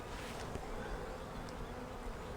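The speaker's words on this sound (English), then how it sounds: "And a bunch of chilled out bees." Steady, close buzzing of many honey bees, a continuous low drone with occasional louder passes of individual insects.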